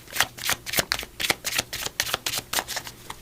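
Tarot cards riffled and shuffled by hand in a quick, steady series of crisp flutters, close and clear with no talking.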